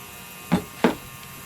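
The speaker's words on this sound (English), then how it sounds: "So I'm just spraying a bunch in there just to lubricate it." Cleaning lubricant is sprayed onto an AR-15 bolt carrier group in two short, sharp bursts close together over a faint background hum.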